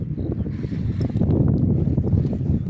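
Steady clip-clop of a mare's hooves on hard ground while riding uphill on a mountain pasture, close and continuous, with a low rumble underneath.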